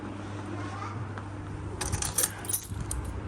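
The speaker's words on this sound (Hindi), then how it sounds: "स्कूटी की चाबी, चाबियाँ स्कूटी की।" Scooter keys jangle close by in a village home, a short bright metallic rattle of a few clinks after a moment of quiet background.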